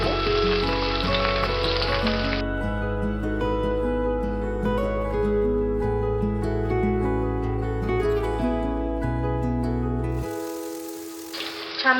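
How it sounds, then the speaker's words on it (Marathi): Okra (bhindi) fries on medium heat with a hissing sizzle, heard most clearly at the start and end, while steady background music plays over most of the stretch. "छान अशा भेंड्या मध्यम आचेवर फ्राय करून घ्यायच्या।"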